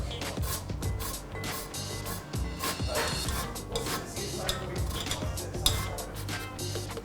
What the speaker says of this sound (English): I'm using a really, really fine grater here to make sure I get all the good bits and none of the pith.